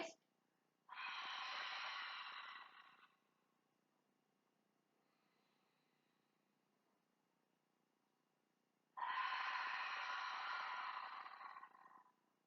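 A person doing a Pilates exercise on a chair lets out two long, breathy exhales, each about two seconds, separated by a stretch of near silence.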